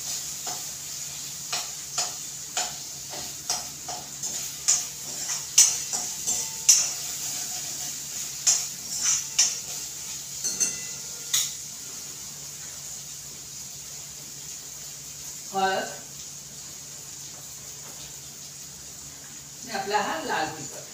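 Tomato frying in oil for a Maharashtrian white pea curry, a steady sizzle with repeated spatula scrapes and clinks against the pan, under a quiet steady background hum.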